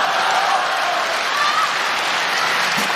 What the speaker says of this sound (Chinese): 可以鼓掌